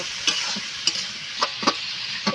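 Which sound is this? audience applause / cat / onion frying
onion frying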